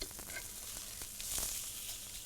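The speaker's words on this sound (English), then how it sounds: "Let's go check on that steak now, because that is sizzling away." Steak sizzles in a hot pan, a close, steady crackling hiss with small pops throughout.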